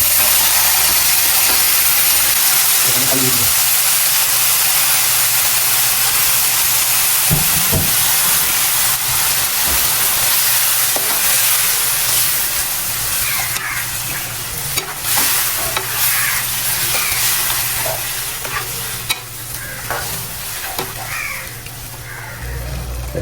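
Chicken fries over a medium flame in a pan with a loud, constant hissing sizzle. Intermittent scraping stirs and clinks sit close up throughout, with no voices.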